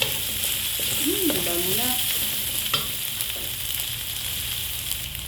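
Leftover chicken tocino frying in a pan with a steady close sizzle and some stirring scrapes, while a voice speaks briefly over it.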